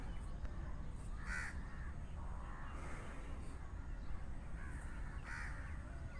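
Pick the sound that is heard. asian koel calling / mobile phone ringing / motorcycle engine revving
asian koel calling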